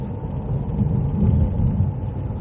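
A car drives a country lane between Wittersham and Appledore, heard from inside as a steady low engine rumble and road noise with no one talking.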